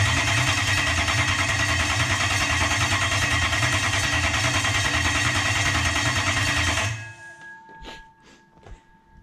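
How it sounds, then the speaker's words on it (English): Toyota or Lexus V8 engine cranking over with the starter for about seven seconds, a loud steady pulsing churn, then abruptly stopping and leaving a few faint clicks and a low hum. "So I hooked it all up and I crank it over, and we wait to see if that light goes out."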